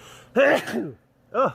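A person sneezes once, loud and close, with a short gasping intake before it and a brief voiced exclamation just after.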